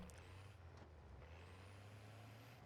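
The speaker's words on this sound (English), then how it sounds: "So I drive the truck up." A truck driving in the Warzone game: a low engine drone holds steady with a hiss of air brakes near the start, moderately close but quiet, no talk.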